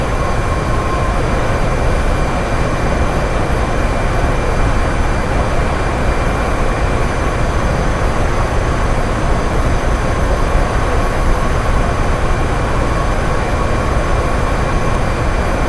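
Helicopter rotor and engine in Microsoft Flight Simulator 2024, a steady, loud, unbroken mechanical drone with a constant whine running the whole time, no voices over it.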